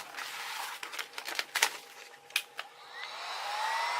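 A heat gun blows across vinyl wrap on craft foam with a soft, steady airy hiss, faint throughout, while the material gives occasional light crinkles and rustles.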